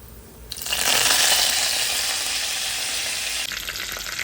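Curry leaves dropped into hot oil for ridge gourd chutney burst into a loud, bright sizzle that starts abruptly, then settles into a steady crackling hiss before dropping back down.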